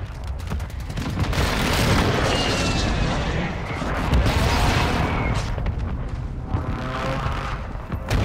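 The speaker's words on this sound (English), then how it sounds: "Precision airstrike inbound. Friendly mortar strike inbound." A precision airstrike and a friendly mortar strike hit in a military shooter game. Heavy explosions roll in dense, loud bursts that blend into a long rumbling barrage, with no talk.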